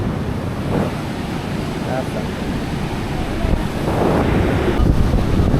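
Sea waves rushing and washing up on the beach at Kolthare, with the water running high, and heavy wind buffeting the microphone throughout, loud and continuous.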